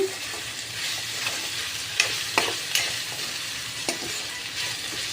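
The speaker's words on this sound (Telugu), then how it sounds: "మీడియం ఫ్లేమ్లో పెట్టుకొని ఈ బనానా అయితే మనం ఫ్రై చేసుకోవాలి మధ్య మధ్యలో అయితే ఇట్లా కలుపుతూ ఉండాలి" Raw green banana pieces fry on medium flame in a pan, a continuous crackling sizzle broken by several sharp scraping stirs of a spoon against the pan.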